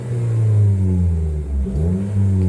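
Engine of a 2019-2021 Toyota Corolla Hatchback revving up and easing off with sport throttle mode selected, a close, steady mid-pitched rev with a slight dip and rise.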